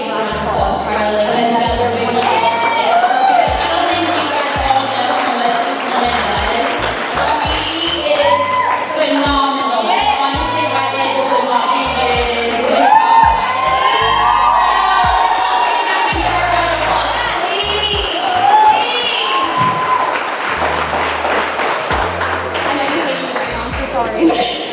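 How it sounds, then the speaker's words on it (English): An awards ceremony crowd for a realty company cheers and whoops with scattered applause, sustained and loud for the whole stretch, with music or voices mixed in throughout. "We all need to give a round of applause to Kylie and another big one."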